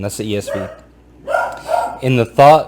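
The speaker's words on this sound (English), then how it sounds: "Excuse my dog's barking." A pet dog barks a few times in the background while a person speaks close by, the barks mixed in with the talking.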